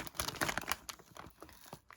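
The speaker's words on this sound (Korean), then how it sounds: "비닐이어서 쉽게 떼집니다" Vinyl brand sticker peeled off a vintage item by hand, a close, quiet run of crinkling and tearing rustles with brief sharp crackles, loudest early then thinning out.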